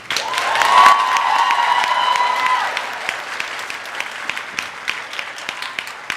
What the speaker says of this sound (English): ask you to recognize them by applause